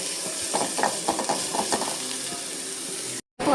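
Coriander and chili powder sizzle gently in hot oil while a spoon stirs and scrapes the pan in short bursts, close and soft, before a brief dropout.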